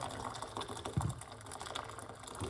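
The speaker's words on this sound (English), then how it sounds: "So we're going to put some water." Hot water, about one cup, pours into a medium-sized pot in a kitchen, a steady close splashing trickle with a brief louder gurgle near the middle, no talk over it.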